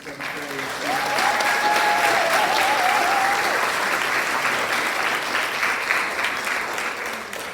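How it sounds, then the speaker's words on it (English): A school audience at a 5th–7th grade honors assembly claps in a sustained round of applause, dense and steady throughout, with a faint whistle near the start. "One more last round of applause for your 5th and 7th grade."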